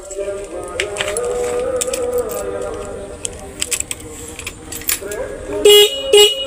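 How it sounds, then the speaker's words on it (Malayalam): An old Royal Enfield Bullet motorcycle, being checked for battery power, sounds two short, loud horn honks near the end, after some clattering handling noise and what may be faint voices. "ഇതിൻ്റെ ഹോൺ കേൾക്കുന്നുണ്ട്"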